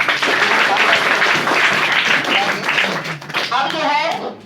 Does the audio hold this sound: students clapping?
yes